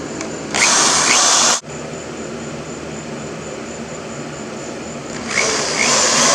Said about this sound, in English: Now I have to drill this hole out to fit my bolt